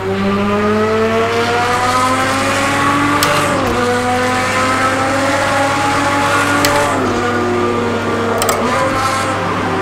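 A 2016 LMP1 race car engine in Project Cars 2, heard from the roof camera, drones and revs steadily through gear changes, with sharp pops and crackles from the flame-spitting exhaust breaking through.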